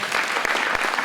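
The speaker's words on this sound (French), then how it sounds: "Donc on peut aussi les applaudir." An audience at a Téléthon charity evening applauds, a dense, steady burst of clapping from many hands.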